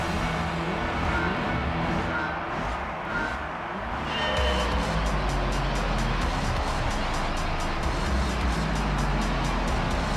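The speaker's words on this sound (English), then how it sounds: "Oh look, there's an RX-7 right next to me." Mazda RX-7 race car engine in the PS2 racing game Gran Turismo 3, a steady loud engine drone that grows fuller and denser partway through, running continuously with no speech.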